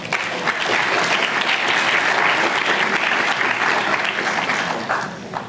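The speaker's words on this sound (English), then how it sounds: "Let us all give them another round of applause." Sustained applause from an audience at an evening speech contest night, a dense steady wash of many hands clapping for about five seconds before tapering off slightly at the end.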